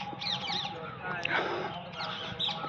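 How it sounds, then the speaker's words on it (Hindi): Birds call in a quiet garden at the Sarnath stupa, producing repeated high chirps and squawks at middle distance over a low background murmur of voices. "आप यहाँ पे चिड़ियों के भी आवाज़ सुन सकते हैं"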